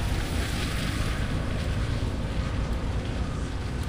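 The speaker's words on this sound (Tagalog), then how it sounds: "Ang dagat." Sea waves wash in at a seaside boulevard in Pagadian City, a loud, steady surf roar mixed with heavy wind buffeting the microphone and no talking.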